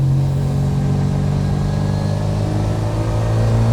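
A supercharged 1974 MGB GT with a B Series engine pulls hard under acceleration, a steady, loud mid-pitched engine drone with rising harmonics that holds throughout, close and continuous, with no talking.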